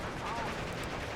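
An MG34 machine gun fires in the World War II strategy game Steel Division 2, a dense, continuous rattle of rapid shots mixed with mechanical clatter over a brief moment, with some voice in the mix.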